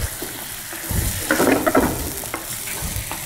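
Potato pizza sauce with sugar and salt bubbles and sizzles in a pan while a spoon stirs and scrapes through it, a steady close cooking hiss with occasional clinks.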